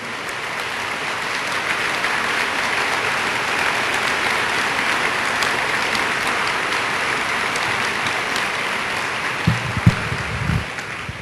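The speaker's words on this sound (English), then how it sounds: "Let's give these folks a round of applause." A crowd at a kick-off gathering applauds steadily and evenly for about eleven seconds, with a few louder close claps near the end.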